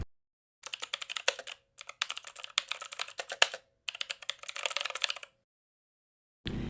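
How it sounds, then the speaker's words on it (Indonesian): Typing on a computer keyboard while entering a terminal command on Ubuntu Linux, heard as several close bursts of rapid clicking keystrokes separated by short pauses, with no talking. "Lalu ketik perintah berikut dan tekan enter."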